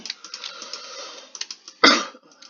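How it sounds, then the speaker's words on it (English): A single sharp, close cough breaks through quiet background clicking and faint typing-like taps during Minecraft Skyblock gameplay. "pardon my cough"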